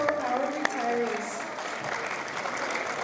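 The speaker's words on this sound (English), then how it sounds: "So one more round of applause for our retirees." Banquet audience applauding retirees at a 2023 retirement banquet, a steady wash of clapping lasting throughout, moderately distant, with a voice speaking over the start.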